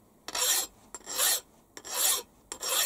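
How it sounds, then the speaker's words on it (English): A hand file deburrs a metal riser plate for a Warco WM180 lathe toolpost, giving four distinct rasping strokes in an even rhythm, close and fairly quiet, with no voices. "So deburr again."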